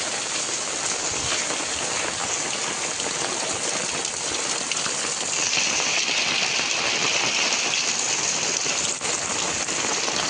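Steady heavy rain pours down across a Konkan village at the start of the monsoon, a dense continuous hiss of drops on surfaces with gushing water, loud and close throughout with no voices.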